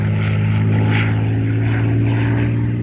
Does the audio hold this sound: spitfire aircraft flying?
yes